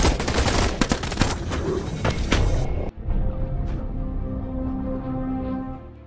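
Gunfire in an action film scene: rapid bursts of sharp shots in a dense fusillade for about three seconds, then an abrupt cut to a quieter stretch with distant scattered cracks over a low sustained tone.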